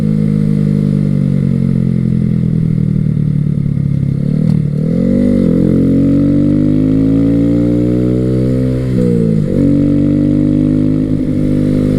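A Honda Grom 125 motorcycle fitted with an FMF exhaust pipe, aftermarket intake and high-performance air filter runs steadily near and loud, its engine note swelling and dipping through a couple of rev changes, with no talk.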